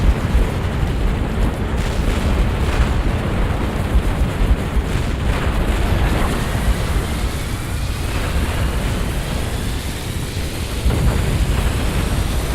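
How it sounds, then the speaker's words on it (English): Units in the game Halo Wars fire on a Scarab in a dense, continuous roar of explosions and weapon fire that stays loud throughout. "I'm going to select everything I have and get it to fire at that Scarab"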